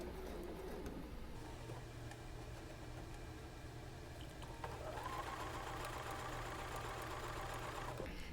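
A sewing machine stitches a quilt seam for an Alaska block at a deliberately slowed speed, giving a steady low mechanical hum with a brief pause before a brighter whirring stretch.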